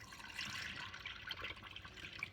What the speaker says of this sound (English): I'm pouring this down the drain.